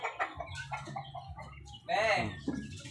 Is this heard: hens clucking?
yes